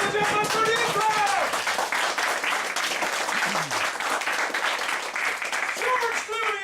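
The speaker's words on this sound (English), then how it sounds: "we're going to burst into a massive round of applause" Steady applause and clapping fill the clip, with voices and cheering mixed in over the continuous wash of hands.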